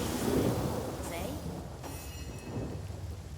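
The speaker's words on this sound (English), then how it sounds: "Let's get some rain down." Steady rain and a low rolling rumble of thunder fill a video game scene from Divinity: Original Sin, with a few thin tonal streaks above; no one speaks over it.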